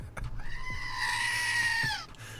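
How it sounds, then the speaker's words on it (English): A screaming goat sound effect lets out a single loud, drawn-out bleating scream close up, lasting about a second and a half, preceded and followed by brief thumps. "Gotta bring the screaming goat in."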